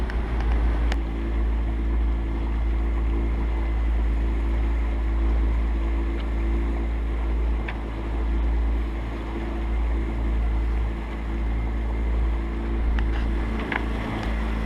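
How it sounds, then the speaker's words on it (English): A Woods Gypsy catamaran motors up a narrow channel of the Oosterschelde under engine power, a constant low engine drone beneath wind and water noise, with a few faint clicks along the way. "we're motoring up the Oosterschelde, trying to get our engine hours up to 20"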